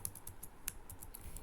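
Rapid keystrokes clatter on a computer keyboard, close and crisp, in an uneven run of clicks with short pauses and no voices.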